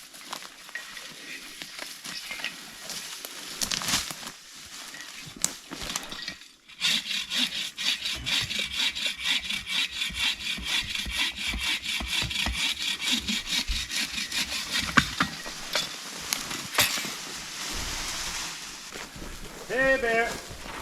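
Wood being hand-sawn at a bushcraft camp in an autumn forest: a fast, steady back-and-forth rasp of the blade, close by, starting after a short pause and running on, with someone talking briefly.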